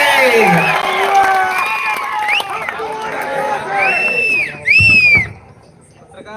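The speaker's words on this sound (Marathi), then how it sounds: "हात वरती, जोरदार टाळी आपल्या भैयांसाठी" At an outdoor political rally, a crowd cheers and whoops loudly under an amplified announcer's voice, with shouts rising and a sharp burst of noise near the end before it fades.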